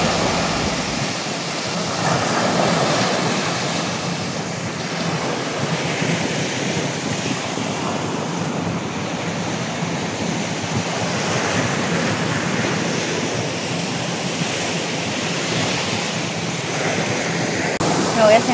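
Steady wash of sea waves at the shore, continuous broadband surf with some wind buffeting on the microphone, fairly loud and close throughout.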